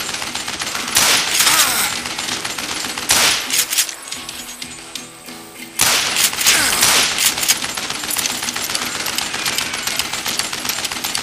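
Sustained bursts of gunfire from the Western shooter video game Call of Juarez Gunslinger, with dense rapid shots and a brief lull midway before heavy firing resumes, loud throughout.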